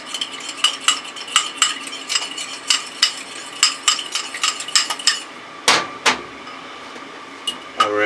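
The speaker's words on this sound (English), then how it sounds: "And we'll whisk this egg." An egg is whisked briskly in a bowl before frying, a rapid series of sharp metallic clicks and taps at a fairly even rhythm, close and moderately loud, ending with a few louder knocks against the rim.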